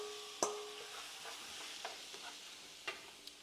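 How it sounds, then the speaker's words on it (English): Shrimp cook in a pan with peppers and onions, a soft, low sizzle under a few sharp spatula clicks and taps against the metal. "Okay, my peppers and onions are ready, and I'm going to put my shrimp in this pan."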